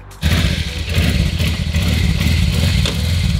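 A Honda Transalp motorcycle pulls away, its engine starting in abruptly after a brief quiet moment and then holding a steady, loud, rumbling drone with clattering texture throughout.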